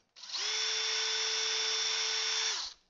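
A power drill drilling holes while assembling a bluebird house spins up and runs with a steady high whine for a couple of seconds, then winds down; no voices.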